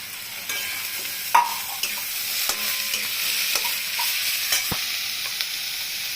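Drumstick stalks and potatoes fry in a pan with onion in a Bengali fish stir-fry, giving a steady close sizzle broken by several sharp clinks and scrapes of a spatula stirring against the pan.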